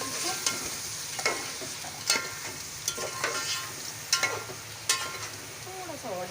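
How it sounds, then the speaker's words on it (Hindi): Yogurt fries with masala in a pot for beef yakhni pulao, a soft steady sizzle broken by regular sharp scrapes of a spoon stirring about once a second. "दही डाल के भूनेंगे थोड़ा"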